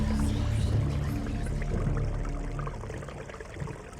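Water pours steadily into a jar in the video game Eternal Darkness, a continuous gurgling, splashing flow at moderate loudness that gradually thins toward the end.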